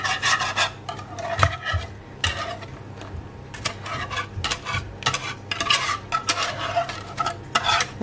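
Thickened homemade pastry cream for mille-feuilles scraped from a pan into a mixing bowl: repeated rasping scrapes and wet smears of a utensil against the pan, close and fairly loud, with no talk.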